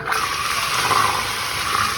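Water runs steadily from a Moen faucet with a 1222 cartridge, a constant loud hiss and gush that continues unbroken for the whole stretch with no voices.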